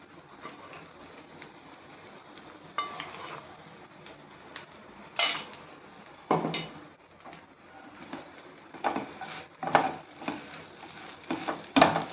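A metal spoon scrapes and clinks in a pan as peanut powder is stirred into sago upma, with intermittent sharp knocks over a quiet kitchen background and no talking.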